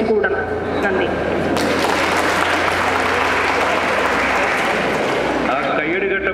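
Loud, sustained applause from a crowd at a school alumni homecoming, dense clapping holding steady for several seconds before easing slightly at the end.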